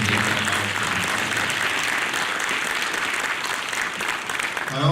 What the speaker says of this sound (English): y'all deserve a great round of applause for your efforts